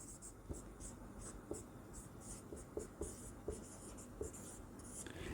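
A teacher writes on a classroom board during a science lesson, making steady, rhythmic scratching and tapping strokes at close range, with faint background noise and no speech.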